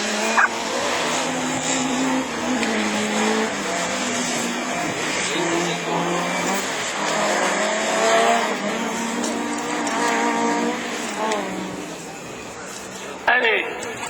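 Super 1600 rallycross race cars compete at Lessay during the 2011 French championship, with engines droning and revving loudly and continuously, tires squealing, and a commentator talking over the action.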